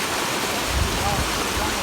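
Water rushes out through a breach cut in one side of a pond that overflowed in the rainy season, a steady loud wash of flowing water close by.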